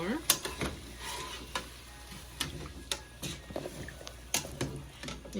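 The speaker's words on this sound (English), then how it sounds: "Stir it up some more." Brown stew chicken legs cooked the Jamaican way are stirred in a pot, giving soft sizzling under a steady run of light clinks and scrapes of a utensil against the pot, close and fairly quiet.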